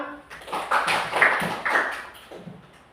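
A classroom of students claps briefly together, a short uneven burst of hand claps with some voices mixed in, fairly quiet and fading out.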